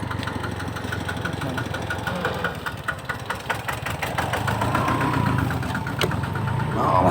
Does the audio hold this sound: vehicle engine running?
yes